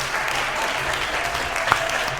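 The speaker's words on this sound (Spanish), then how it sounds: "¡Han venido de arriba a aplaudirme!" A small audience applauds steadily at a circus performance, even clapping sustained for a couple of seconds with one sharper clap standing out near the end.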